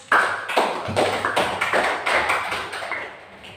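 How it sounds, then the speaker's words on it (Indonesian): Brief applause from a classroom of students, a short run of quick, fairly loud claps that fade out within a few seconds. "Kita berikan aplaus."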